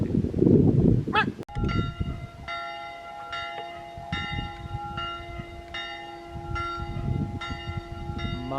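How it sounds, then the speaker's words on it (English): A church bell on Wallis Island rings repeatedly at a steady pace, its tones lingering and overlapping, with some low background rumble and a brief noise at the start. "Church bells are ringing, boys and girls, on Wallis Island."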